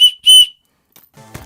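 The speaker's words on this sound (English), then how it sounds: "It's got an emergency whistle." Two short, shrill blasts of an emergency whistle, sharp and close, followed by a faint rustle.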